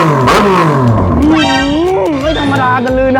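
A Yamaha R6 and an MT-09 three-cylinder sit side by side, one engine revving loudly up and down in rising and falling sweeps, close by, with someone talking over the exhaust.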